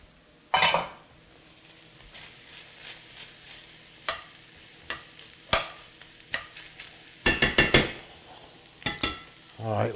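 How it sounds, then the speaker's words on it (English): Carrots and onions sautéing in a pan for shepherd's pie, a spoon scraping and stirring in bursts with clinks against the pan over a low sizzle and quiet gaps between strokes. "let's saute those carrots and onions for a few minutes"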